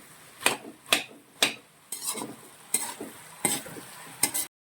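Mashed tapioca is stirred into a coconut paste in a pan, with a spoon scraping and knocking against the metal in repeated strokes over a soft sizzle, close up and without talk.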